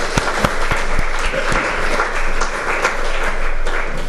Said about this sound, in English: Let's give Marilyn a hand. She just loves applause.